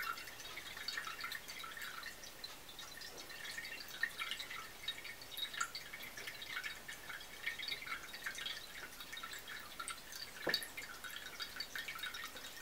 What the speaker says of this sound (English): So you hear a bit of a water sound, mostly from the backfalling water into the bowl.